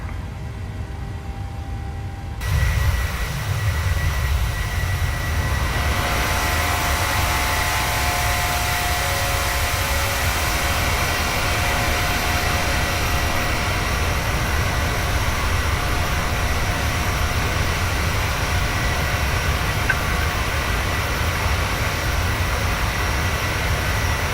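PMDG 737-700 airliner climbing in Microsoft Flight Simulator, a loud continuous broadband engine roar that swells in after a quieter opening moment and holds steady throughout.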